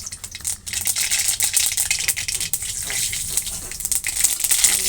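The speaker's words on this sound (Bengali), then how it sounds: "দেখো কড়াইতে তেল বসিয়ে দিয়েছি, তেল গরম হয়ে গেছে। এখন দিয়ে দেবো একটা শুকনো লঙ্কা আর দিয়ে দেবো অল্প সর্ষে।" Dried red chilli and mustard seeds hitting hot oil in a kadai, giving a steady, close, crackling sizzle that runs throughout with small spits and pops, no talking.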